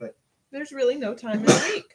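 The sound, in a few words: sneeze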